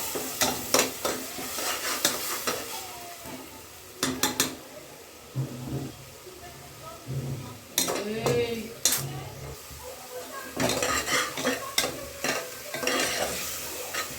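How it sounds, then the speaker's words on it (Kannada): A ground paste of ginger, garlic, coriander, mint and green chili is stirred and fried in a pan for pulao, with a sizzle under repeated scraping and clinking of a spoon against the pan. "ಇದು ಹಸಿ ವಾಸನೆ ಹೋಗೋವರೆಗೂ ಫ್ರೈ ಮಾಡ್ಕೊಬೇಕು"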